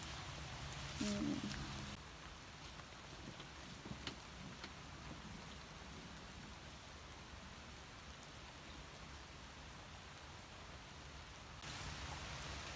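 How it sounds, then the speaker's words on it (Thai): Heavy rain pouring on an oil palm plantation, a steady dense hiss that holds throughout, with a brief louder burst near the start and a slight swell at the end. "ฝนตกเริ่มมาหนักแล้วค่ะตอนนี้"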